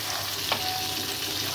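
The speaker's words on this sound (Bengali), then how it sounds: "একটু হালকা ভাজা হতে হতে আমি সাইডে একটু পেঁয়াজগুলোকেও দিয়ে দিতে চাইবো" Small bele fish fry lightly in a pan, a steady soft sizzle of hot oil running throughout at a moderate level with one brief scrape partway through.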